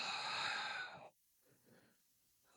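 A long, audible breath out during safe abdominal exercises, close and fairly loud, followed by quieter, softer breathing.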